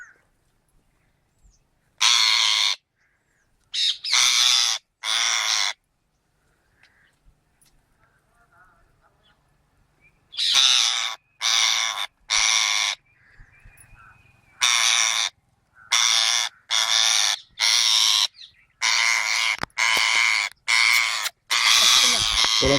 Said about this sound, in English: These birds are so entwined and so freaked out